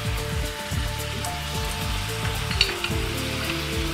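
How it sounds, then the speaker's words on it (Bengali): Spice masala with turmeric and cumin powder fries in a pan, giving a steady close sizzle with soft scraping stirs throughout and no talk. "যে মশলাটা একটু আগে কষিয়ে নিচ্ছি, মশলা প্রায় কষানো হয়ে গেছে"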